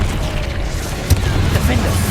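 Low rumbling booms from the Confringo explosion spell in the Hogwarts Legacy video game, with a sharp burst about midway, loud and dense, mixed with shouted spell incantations during combat.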